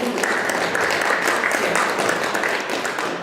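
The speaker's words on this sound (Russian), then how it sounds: "Аплодисменты, дорогие друзья." Audience applause fills a poetry festival hall, steady dense clapping that holds evenly throughout without a break.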